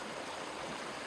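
A stream flows with a steady, dense rush of water, continuous and fairly close, with no voices.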